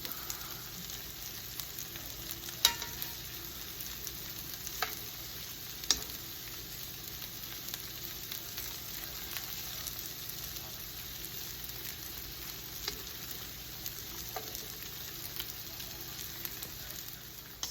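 A gumbo roux sizzles softly in a pan as it is stirred and flipped, a quiet continuous fry broken by a few sharp scraping taps of the utensil.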